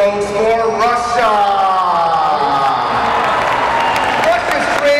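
A large crowd cheers and applauds at a robotics world championship parade of nations, loud and sustained, with whoops and a voice over it.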